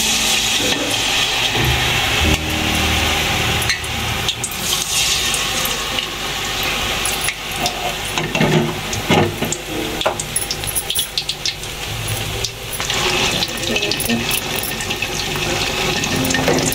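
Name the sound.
eggplant coated in gram flour batter frying in a pan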